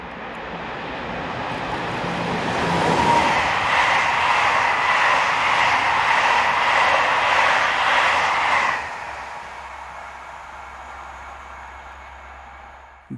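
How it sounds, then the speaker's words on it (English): Locomotive 26010 heading west near Plainville with a Paris Saint-Lazare to Cherbourg passenger train, a broad rushing roar that builds, holds steady as it passes close by, then drops away to a fainter fading rumble. "as 26010 heads west near Plainville, with the 1510 from Paris Saint-Lazare to Cherbourg"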